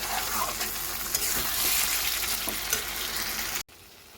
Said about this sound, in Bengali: এরপর আলুটা দিয়ে ভালো করে কষিয়ে নেবেন